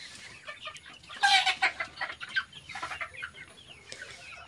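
Broiler chickens in a poultry room cluck and squawk in a burst of close, agitated calls, then settle into scattered softer clucks over a low background hum.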